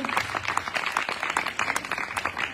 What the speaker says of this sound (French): Allez, on peut applaudir encore.